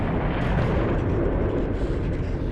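The 1883 Krakatoa volcano in Indonesia erupts in a massive explosion, heard as a loud, sustained, dense roar and rumble with no letup and no voices.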